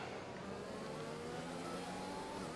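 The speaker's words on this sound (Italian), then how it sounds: "Adesso abbasso un po' i giri del motore" An F1 car engine in the F1 2020 racing game, a steady, fairly faint mid-pitched drone with rising whine harmonics, heard continuously without voices.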